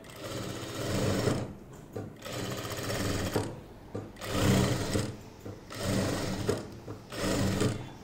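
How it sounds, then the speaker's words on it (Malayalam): A sewing machine runs in steady bursts while stitching the neckline of a churidar top, its motor whirring loudly with brief pauses between runs and no voices. "ഇനി നമുക്കിതൊരു 1/4 ഇഞ്ചിൽ അങ്ങോട്ട് ഇതുപോലെ അങ്ങോട്ട് സ്റ്റിച്ച് ചെയ്യാം"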